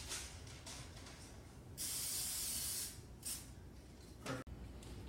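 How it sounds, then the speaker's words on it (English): Olive oil spray hisses onto parchment paper in dumpling steamer baskets: a few short puffs, one longer two-second burst, then quick final spritzes, close and clear. "now we're going to spray our dumpling baskets with a little bit of olive oil"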